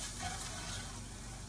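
Flour being stirred into a frying pan to make thickening gravy for biscuits and gravy, a steady soft sizzle and scraping under a hushed kitchen, with no voices.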